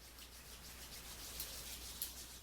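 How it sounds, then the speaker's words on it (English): Hands rubbing briskly together in a breathwork exercise, a close, steady dry swishing friction with a couple of slightly louder strokes, quiet and without talk. "Rub your hands together."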